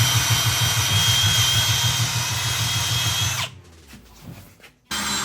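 A power drill drives stainless screws into a truck visor on a first-gen Cummins, its motor whirring loud and steady for several seconds before stopping, followed by a quiet pause and a brief final burst.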